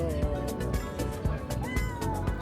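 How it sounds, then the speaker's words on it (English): A cat meows repeatedly near a private speed boat off Hurghada, Egypt, its short cries coming in a quick run of calls over a busy, steady background. "All right, Kitty, go now."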